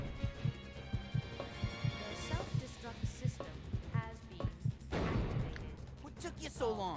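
A heartbeat sound effect in the Resident Evil Code Veronica video game thumps in a steady, regular low pulse across the stretch, under game music, hum and a few crashing effects, with a player talking over it.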